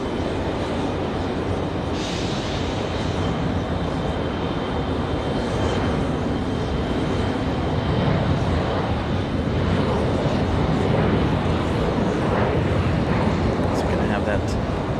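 A Lufthansa Airbus A330 departing from runway 5 Left at Raleigh-Durham International produces a loud, steady, broadband jet roar that holds for the full stretch with little change.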